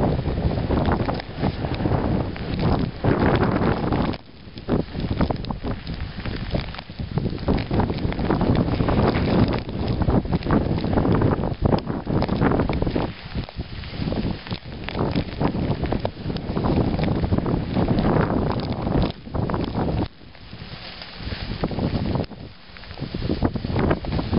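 Loud, gusting icy wind of a snowstorm at dawn in the hamlet of Castelvecchio in the Marche, buffeting the microphone continuously with roaring surges and brief lulls, no voices.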